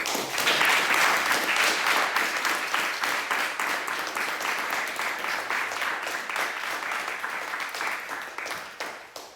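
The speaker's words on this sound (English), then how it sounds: "another round of applause for" An audience breaks into dense, sustained applause, many hands clapping at once, loud at the start and easing off slightly over several seconds.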